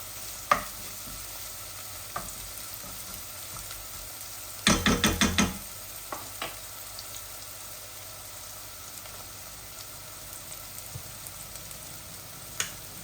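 Shrimp stir-fried with mixed vegetables (beans, cabbage and radish) in a pan: a faint, quiet sizzle with scattered clicks and a short burst of rapid utensil scraping midway.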